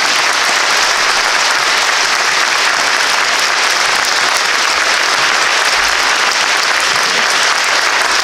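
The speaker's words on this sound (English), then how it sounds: "So how about a round of applause for your superintendent?" A large audience at a Union County Schools gathering applauds its school superintendent in a loud, dense, unbroken wash of clapping that holds steady throughout, with no voices rising above it.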